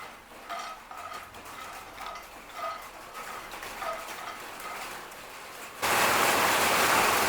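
A heavy rain shower at home, arriving suddenly as a loud, dense, hissing roar after several seconds of quiet, faint kitchen clinks.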